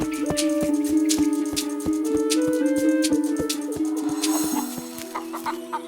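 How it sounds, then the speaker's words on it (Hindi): Cartoon chickens cluck in quick, repeated bursts over a steady tonal background of music. "अजीब बात है, ये मुर्गियाँ खुली क्यों हैं?"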